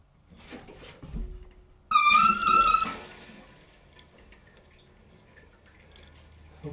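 Water rushes into a newly installed toilet tank, starting with a loud burst of flow and then settling into a steady, quieter filling hiss that continues to the end.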